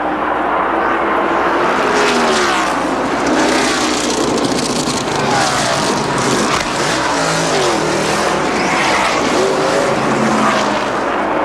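A 1992 NASCAR stock car slowing onto pit road at Atlanta during the Hooters 500, engine roaring and downshifting close by over a continuous wash of other race cars and crowd noise.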